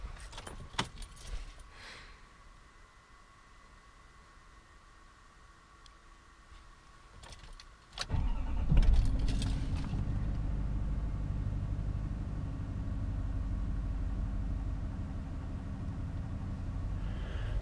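Keys jangle close up, then a pickup truck engine cranks and catches at about eight seconds and settles into a steady, low rumbling idle that continues to the end.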